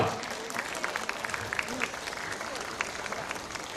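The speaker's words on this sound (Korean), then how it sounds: "여러분 큰 박수로 환영해 주시면 고맙겠습니다." An outdoor crowd at a disability singing contest in Marronnier Park, Seoul, claps to greet the Jongno district council chairman, an even, sustained ripple of applause with some sharper individual claps standing out.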